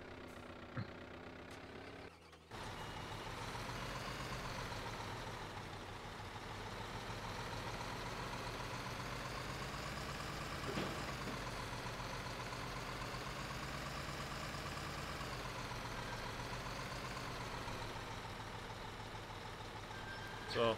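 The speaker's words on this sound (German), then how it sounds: "Alter, wie langsam fährt der LKW hier?" In the Bau Simulator construction game, a truck creeps slowly along with a steady engine drone and reversing beeps that run continuously for around twenty seconds.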